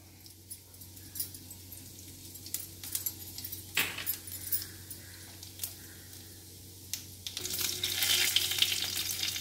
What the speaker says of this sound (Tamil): கடாய் ஹீட் ஆகிடுச்சு நான் ஆயில் ஊற்றிக்கிறேன் நெக்ஸ்ட்டு கடுகு போட்டுக்கிறேன் உளுத்தம்பருப்பு